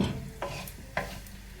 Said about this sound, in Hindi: मिर्ची और तेज पत्ता, इसको हम यहाँ डालेंगे।